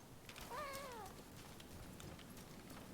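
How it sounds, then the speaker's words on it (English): A single cat meow in the video game Rise of the Ronin, a short rising and falling call that sounds fairly near but soft, over quiet ambient game noise. "I hear a cat."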